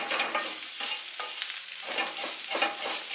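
Sausage meat and flour sizzle in a pan on a gas stove between medium and high heat, while a spoon keeps scraping and stirring them in close, repeated strokes over a constant frying hiss, no voices.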